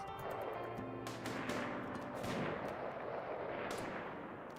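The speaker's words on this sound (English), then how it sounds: "jump closer and shoot them in the face" Gunfire in the RimWorld video game, a steady dense rattle of mid-distance shots and crackling impacts running throughout with no pauses, fairly constant in loudness and with no talk over it.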